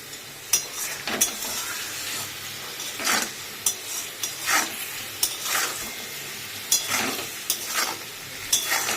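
Spices and cumin being sautéed in a pan make a low background sizzle broken by repeated scraping stirs and light clinks of a spatula against the metal, close and steady.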